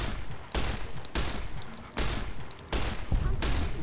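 Rapid automatic gunfire from the video game Fallout New Vegas, delivered in several loud bursts separated by brief gaps, each burst a dense rattling stream of shots close up.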